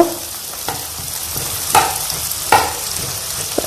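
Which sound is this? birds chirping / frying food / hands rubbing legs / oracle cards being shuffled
frying food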